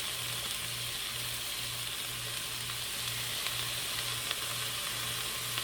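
Peppers going into a pot of chuck beef and vegetable soup give a steady, close sizzle with a faint rhythmic hum beneath, continuous and alone without talk.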